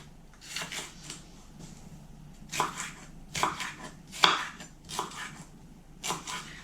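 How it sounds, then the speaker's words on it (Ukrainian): Knife chopping through a bell pepper on a board, a series of crisp, irregular chops up close with brief pauses between strokes. "Тепер нарізаю кубиком перець."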